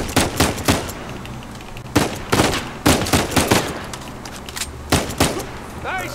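Bursts of loud gunfire in the video game Uncharted 4, several sharp volleys of shots spaced apart across the stretch, with game background noise between them.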